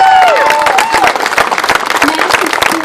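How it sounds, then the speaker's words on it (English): Crowd applause and cheering at the grand opening of a playground, with many hands clapping, scattered whoops and high voices calling out over the first second before settling into steady clapping. "You guys can clap now."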